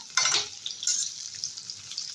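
Pointed gourd (potol) frying in a pan gives a bright hiss and sizzle, with a louder burst near the start and another about a second later, then a steady lighter crackle.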